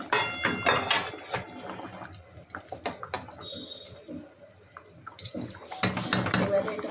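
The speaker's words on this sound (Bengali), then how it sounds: "এই সবজি অনেক সময় ধরে ফুটছে" A pot of pona fish curry with mixed vegetables and fish heads boils on a gas stove, giving irregular bubbling and splashing with occasional sharper pops and clatters, loud in bursts at the start and end.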